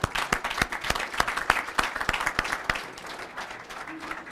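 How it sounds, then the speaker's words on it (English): Audience at a technical college signing day for EMT students applauds, scattered distinct claps over a moderate clapping wash that fades toward the end, with some voices underneath. "Sure, give them a round of applause."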